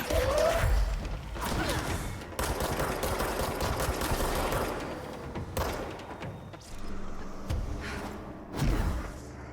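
Rapid gunfire from a magazine being emptied in the video game Control, a dense run of loud, busy shots and impacts spread across the whole stretch with a few heavier thuds.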